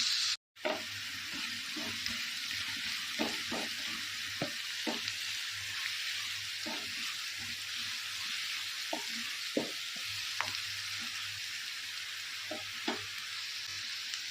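Onions fry in hot oil in a pan for a steady, continuous sizzle, broken now and then by soft pops and light stirring clicks. A brief dropout comes near the start, and no one speaks.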